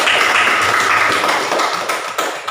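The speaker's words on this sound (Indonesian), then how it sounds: "silakan tepuk tangan untuk Yanti" Classroom clapping from a group of students, a dense, steady patter of many hands that holds loud throughout and thins slightly toward the end, with no talking over it.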